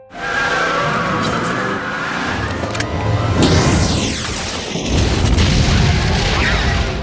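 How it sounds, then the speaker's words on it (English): A speeding car in a film crashes into a school bus: a loud engine roar and tire skid build up, then a heavy boom and crunching impact followed by rumbling debris, close and dramatic. "Zeke buckles his seatbelt and crashes directly into a school bus ahead."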